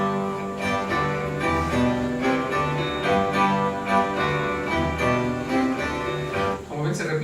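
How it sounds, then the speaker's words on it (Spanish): Seventeenth-century chaconne played on baroque instruments, a steady repeating ground with dense harmonic strumming and melody continuing at even volume throughout, no voices. "este es el sonido característico del siglo XVII"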